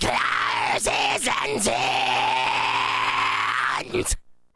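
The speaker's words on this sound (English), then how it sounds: "that's just a standard high-pitched fry scream." A single sustained, high-pitched fry scream, raspy and bright, broken by a few sharp breaths and gasps, ending abruptly.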